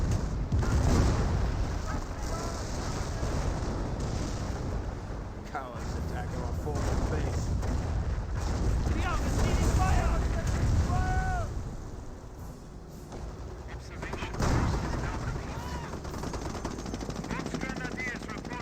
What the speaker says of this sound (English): Calliope rocket barrage gains some damage.